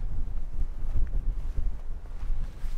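Outdoor wind buffets the microphone in low, rumbling gusts that rise and fall irregularly throughout, with no speech over it.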